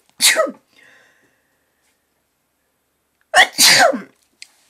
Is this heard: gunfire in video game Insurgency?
no